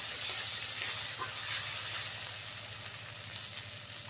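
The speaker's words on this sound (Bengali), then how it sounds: "পেঁয়াজ রসুন বাটা দিয়ে দিলাম। এটা একটু ভালো করে ভেজে নেব যাতে কাঁচা গন্ধটা না থাকে।" Onion and garlic paste frying in hot oil for a spicy pangas fish curry, a steady, close sizzle that softens slightly toward the end, with no talking.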